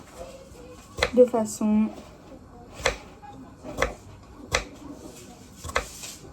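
A knife chops vegetables into small dice on a board in a home kitchen: sharp, separate knocks roughly once a second while someone talks between cuts.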